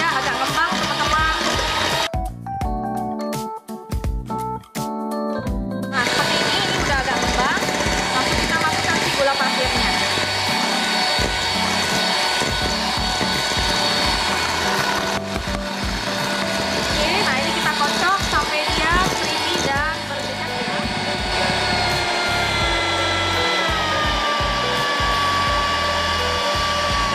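An electric mixer whirs steadily at high speed, beating sugar into cake batter for a coconut sukade sponge cake, a loud continuous motor drone with beaters churning in the bowl, while a person talks over it.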